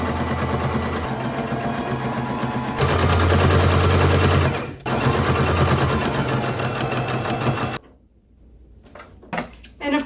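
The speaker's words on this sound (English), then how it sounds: "So for the top stitch, I'm gonna go back to my standard sewing machine." A standard sewing machine top-stitching a garment runs in steady, rapid bursts, pausing briefly mid-way and stopping near the end before a few short clicks.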